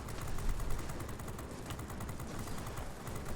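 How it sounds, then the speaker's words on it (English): Rapid, continuous aircraft cannon fire from the World of Warplanes game rattles without pause, dense and even throughout, like a video game's gunfire. "Apparently my cannons just don't want to hit this guy."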